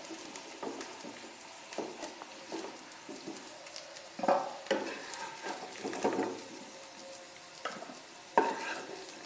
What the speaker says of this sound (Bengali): এবার আমি আলুগুলোকে নাড়িয়ে চাড়িয়ে লাল লাল করে ভেজে নেব।